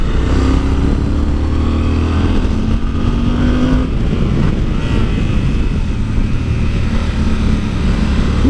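Yamaha Super Ténéré motorcycle being ridden: a loud, continuous engine drone mixed with heavy wind and road roar, close and steady the whole time, with short rises in engine pitch.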